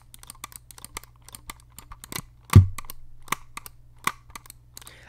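Rapid, light plastic clicks and rattles from the wobbling buttons of a Logitech G Pro Wireless mouse tap out close by, with one louder thump partway through; no one speaks.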